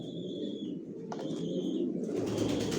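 Racer pigeons coo in a loft, soft repeated low calls over a dense murmuring bed of birds, with a few higher chirps and a brief flutter of wings toward the end.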